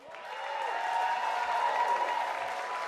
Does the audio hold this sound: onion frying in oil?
no